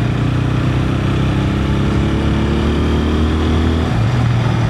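A 2025 TVS Apache RTR 160 4V motorcycle on the move, its loud, steady engine drone mixed with wind rush, the pitch dropping and shifting near the end as a gear changes.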